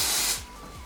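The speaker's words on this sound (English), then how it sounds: "take my L'Oreal Paris Constructor Spray, give it a good shake" A loud burst of L'Oreal Paris Constructor aerosol hairspray hisses for a moment, then fades, followed by a few quick rattling shakes of the can.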